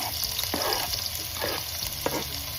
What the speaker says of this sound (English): So now I'm just gonna saute my veggies, saute my onion, my scallion,